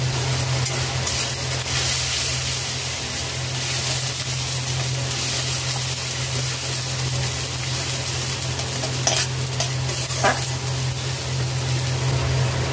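Spices sautéing in oil in a pan for a vegetarian curry with chopped tomato, Kashmiri chilli powder, cumin-coriander powder and turmeric, a steady close sizzle with faint stirring scrapes, no talk.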